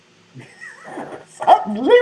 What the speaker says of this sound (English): Was that a dog? Was that your dog?